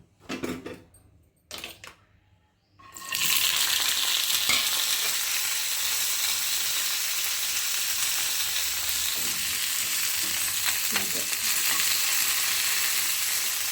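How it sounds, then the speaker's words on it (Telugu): Tomatoes and green chillies drop into a little hot oil and burst into a loud, steady sizzle that carries on close up, after a few soft handling knocks and clinks at the start. "కొంచెం లైట్గా ఆయిల్ వేసేసి టమాటాలు పచ్చిమిర్చి ఫ్రై చేసుకుందాం."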